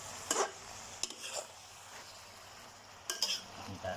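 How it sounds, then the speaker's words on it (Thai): Shrimp and chive flowers stir-fried in a pan, a soft steady sizzle broken by sharp scrapes and clacks of the spatula against the pan in irregular bursts, close, with no talk. "ผัดดอกหอม"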